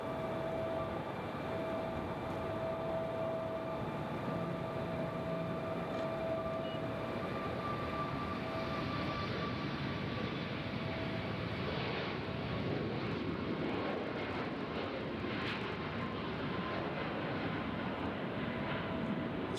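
A jet airplane at Nashville International Airport produces a continuous broad roar with a steady whine, sustained and fairly distant throughout, with no voices.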